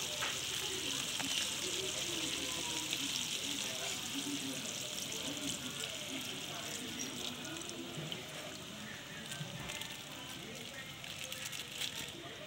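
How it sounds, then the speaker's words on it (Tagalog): Chicken curry simmering in a pan as coconut milk is poured in, giving a steady, close bubbling and sizzling hiss with faint watery splashes that continue evenly throughout. "Lagyan natin ng gata."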